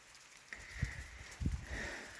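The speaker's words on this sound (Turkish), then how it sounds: "Havayı da görüyorsunuz yağıyor." Rain falling on a rainy mountain tour between Rize and Trabzon, a faint, soft patter of drops on surfaces with a few brief thumps and rustles close by.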